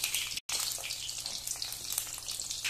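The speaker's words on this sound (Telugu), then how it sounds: "1 నిమిషం ఫ్రై చేసుకోవాలి" A whole brinjal bajji deep frying in hot oil, a steady, loud, dense sizzle that runs on with one brief cut near the start.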